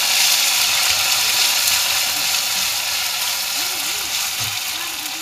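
Spice paste sizzles in a pan for chicken gravy, an even, continuous frying hiss with a faint voice murmuring in the background.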